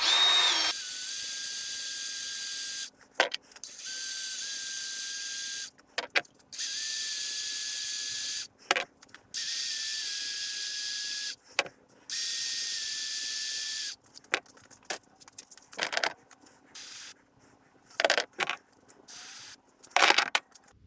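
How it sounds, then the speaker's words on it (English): Old spark plugs pressed against a spinning wire wheel give repeated high whirring, grinding bursts of a few seconds each, separated by short pauses and faint clicks, close and alone. "I'm just going to hit them with the wire wheel, just try to clean them up a little bit."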